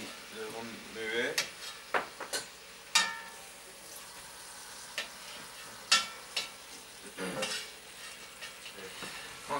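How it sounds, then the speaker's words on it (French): Bacon lardons frying in a pan while a utensil stirs them, soft continuous sizzle under scattered sharp scrapes and clinks against the pan, close and moderately loud. "On va ajouter le lard, le lardon. On va le remuer."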